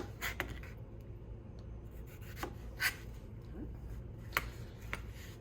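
A knife slicing fresh plums thinly on a board, a few crisp separate cuts spaced irregularly over a steady low background hum, close and fairly quiet.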